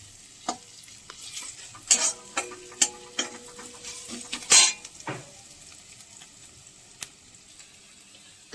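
Chopped onions fry in a pan, a soft sizzle beneath repeated sharp scrapes and clinks of a spatula stirring against the metal, close by and irregular.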